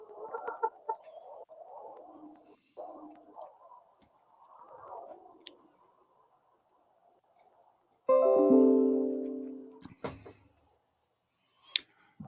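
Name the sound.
Rhode Island Red chickens clucking in pen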